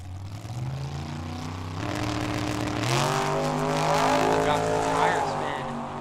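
A Mustang drag racing car launches at Tucson Dragway, its engine roaring and climbing in pitch as it pulls away, loud and sustained. A track announcer talks over the run.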